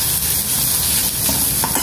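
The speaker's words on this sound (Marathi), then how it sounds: "आणि आता मसाला चांगला भाजून घेऊया आपला।" Masala roasts in hot oil in a pan for a wet-cashew vegetable curry, giving a close, loud, continuous sizzle with light stirring scrapes near the end.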